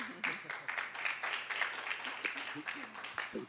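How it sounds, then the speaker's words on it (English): A small group discussion audience gives a round of applause, dense overlapping claps from a modest crowd, fairly faint and roomy, continuing throughout with voices mixed in. "Big round of applause."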